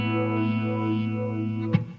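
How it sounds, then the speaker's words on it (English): Electric guitar played through a Stingray Multi-Peak filter effect modulated by an LFO, sustained notes with a sweeping, warbling tone and a brief pick attack near the end. "my first preset is a Stingray Multi-Peak running through an LFO."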